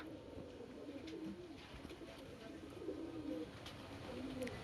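Pigeons coo in a low, soft, repeated rumble, a few birds close by over steady background noise at a market sale of pet pigeons.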